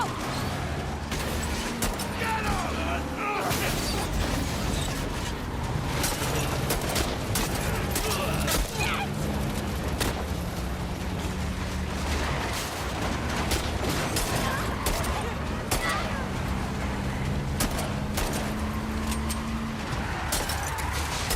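Repeated gunfire from The Last of Us Part 2 crackles throughout a busy game fight, with sharp shots scattered over a constant rumbling din while voices shout.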